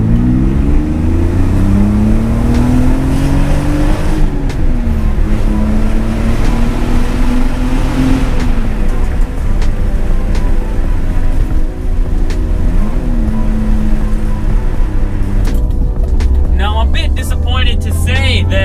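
A BMW E46 with a K&N cold air intake drones loudly from inside the cabin, the engine pitch rising and falling through several revving pulls under a heavy steady rumble.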